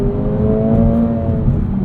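A 2024 Acura Integra Type S engine revs hard toward 7,000 RPM, a loud, steady, rising drone heard from inside the car with no talk over it.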